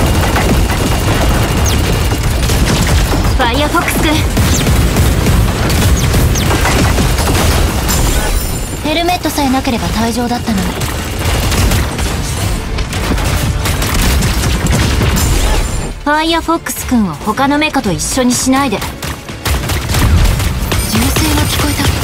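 Heavy gunfire and booms in the mech battle game Super Mecha Champions, loud continuous bursts and blasts throughout, with people talking over the shooting at times.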